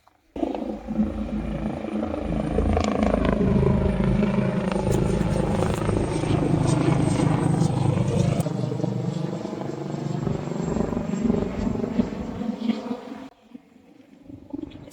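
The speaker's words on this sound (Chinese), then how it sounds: "直升机飞得好低啊！" A low-flying helicopter passes overhead near an air force base, its rotor a loud, rumbling, pulsing drone that builds and holds steady before cutting off near the end.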